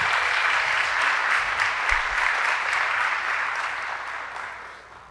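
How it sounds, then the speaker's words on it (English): Applause from an audience at a spring honors program celebration, a steady wash of many hands clapping that holds for several seconds and slowly tapers off, with no talk over it. "A round of applause for Ali"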